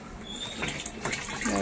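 A thin trickle of tap water runs into a half-filled drum at home, a soft continuous splashing pour heard close, with a voice talking over it.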